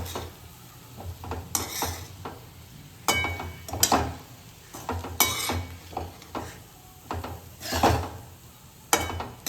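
A spoon scrapes and clinks against a pan while crumbled chapati is stirred and tossed, irregular scraping strokes with faint sizzling beneath, close and clear, without speech.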